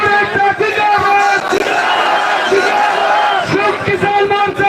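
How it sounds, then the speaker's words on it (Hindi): A large crowd of farmers at a rally by a toll plaza in Haryana, loudly chanting slogans in unison, voices rising and falling in rhythmic waves with a leader's shouts. "ऊंची आवाज में नारे लगाएं"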